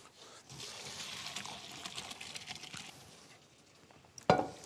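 Boiled potatoes strained in a home kitchen, hot water splashing and draining in a soft continuous trickle, with a sharp clatter near the end.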